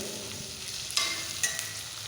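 Steady low sizzle of turkey berries sautéing in oil, with a couple of brief sharper crackles and faint stirring, no talking.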